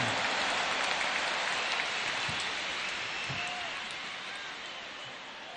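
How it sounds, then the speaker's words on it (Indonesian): A huge stadium crowd at an Anies Baswedan rally at JIS applauds Gus Muhaimin, a dense, sustained roar of clapping that slowly fades. "Tepuk tangan dulu yang meriah untuk Gus Muhaimin."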